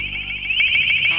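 An LRAD long-range acoustic device sounds a piercing, high-pitched alarm tone, steady and loud with a slight upward sweep, sustained throughout without speech.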